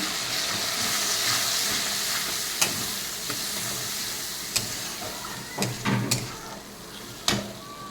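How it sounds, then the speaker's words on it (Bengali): Onion spice paste with ginger, garlic and tomato frying in a pan after prawns, a steady sizzle and hiss with several sharp stirring scrapes and clatters standing out near the end. "এখন আর পেঁয়াজটা ভাজার মশলাটা দিয়ে দেবো।"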